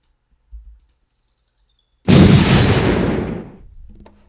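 A single heavy artillery blast from a WWII Pacific strategy game erupts loud and close, then rumbles away over about a second and a half, preceded by a few faint soft clicks.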